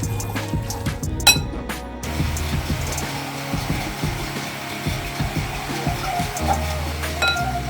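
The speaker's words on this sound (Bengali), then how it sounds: "এবার এটাকে ভালো করে ফেটিয়ে একটু ক্রিমের যে টেক্সচারটা হয় সেরকম করে নিতে হবে।" A whisk beats a jaggery mixture in a bowl until it turns creamy, giving a busy run of quick metallic clinks and scraping taps that continues throughout.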